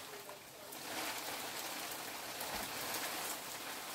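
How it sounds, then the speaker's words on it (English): Hailstorm pelting down outdoors, a dense steady hiss and patter of hailstones on surfaces, loud and continuous with no voices. "Wow, that's a hailstorm."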